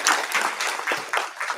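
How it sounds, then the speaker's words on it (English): Brief applause for an award winner at an institute day ceremony in Bengaluru, a short burst of clapping from a small audience that rises and fades within under two seconds. "A round of applause for the winner"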